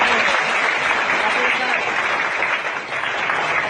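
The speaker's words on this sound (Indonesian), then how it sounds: "Tepuk tangan buat kita semua" A crowd bursts into thick, sustained clapping for everyone present, loud and steady throughout with a brief dip in intensity near the end.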